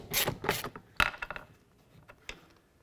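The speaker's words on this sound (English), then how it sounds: "we're going to remove that with a T30 socket and a 3/8 drive ratchet" A T30 socket on a 3/8 drive ratchet works a bolt loose on an 08-12 Ford Escape, giving a few quiet, close clicks and ratcheting bursts early on that thin out to sparse ticks.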